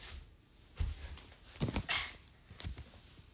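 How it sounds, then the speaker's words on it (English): A dog gives a few short, scattered barks and yips, fairly faint and spaced apart against a quiet indoor background. "It's a dog."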